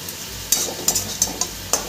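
Red and green amaranth greens frying with shrimp in a pan, a soft steady sizzle broken by a handful of sharp scraping stir strokes at uneven intervals, close and without talk.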